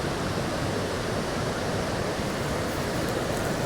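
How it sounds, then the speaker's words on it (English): Niagara Falls thundering as a steady, loud, broadband roar of falling water, heard close from near water level with no break or voices. "So, feel the thunder of those falls."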